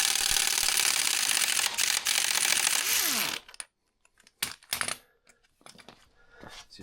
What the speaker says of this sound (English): Get the swing arm bolt loose.